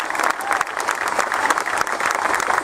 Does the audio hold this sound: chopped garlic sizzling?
no